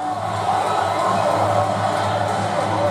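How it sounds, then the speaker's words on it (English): Steady, loud arena crowd roar in NBA 2K24 during a playoff game between the Timberwolves and the Thunder. The roar is a continuous dense wash with no breaks, and no commentary is heard over it. "Crowd roaring on."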